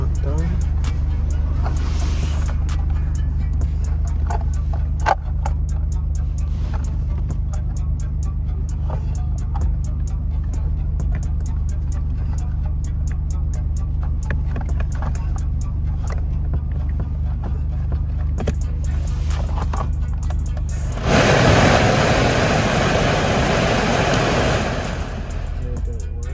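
Heater blower fan motor in a Vauxhall Corsa D running steadily after repair, a constant low hum and whoosh throughout, with a louder rushing surge near the end as the fan speeds up; brief speech is heard over it.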